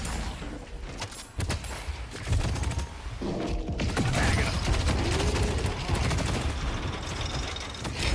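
Video game gunfire sounds as dense, rapid shots layered with mechanical clatter and other game effects. It grows louder and busier after the opening seconds.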